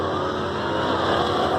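A supercharged 3800 Fiero, E85-fuelled, launches against a Hellcat at a drag track with a loud, steady engine roar that holds through the whole short stretch.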